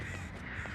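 A crow caws once in the Dead by Daylight video game, a short, faint call set against a dense, steady game ambience.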